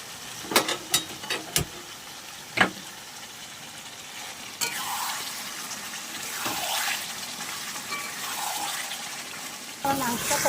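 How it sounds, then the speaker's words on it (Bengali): Water is poured into a pressure cooker still coated with spice residue while mutton cooks, a steady splashing pour lasting several seconds after a few sharp clatters and knocks of utensils. "এবারে এই প্রেসার কুকারটার মধ্যে আমি অল্প একটু জল দিয়ে গরম করে নেব"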